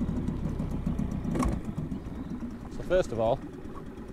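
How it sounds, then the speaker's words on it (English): A steady, rumbling two-stroke boat engine runs throughout, with someone talking over it close by. "you've got a noisy engine. Admittedly, this is a two-stroke, so it's a little bit louder than a four-stroke."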